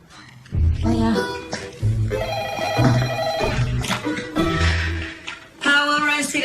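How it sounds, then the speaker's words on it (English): A telephone rings indoors in a household scene, its ringing mixed with music and people talking over it. "Carmen, the phone"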